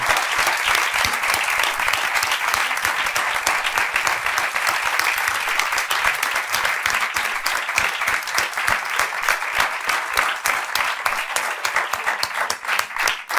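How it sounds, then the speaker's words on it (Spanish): A live studio audience claps loudly for three young guests on a Spanish-language talk show, sustained dense clapping that continues evenly throughout, with no voices over it. "quiero que le demos un fuerte aplauso a los 3 chicos"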